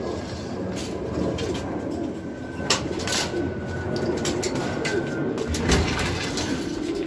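Racing pigeons arriving at a loft in Gumaca, Quezon coo repeatedly over a steady outdoor background, with scattered soft flutters and no talking.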